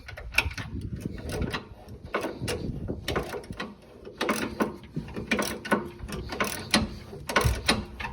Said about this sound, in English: I just happen to have vice grips handy. I'm gonna loosen this.